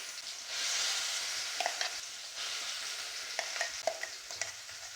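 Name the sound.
ground yardlong beans frying and being stirred in oil with black cumin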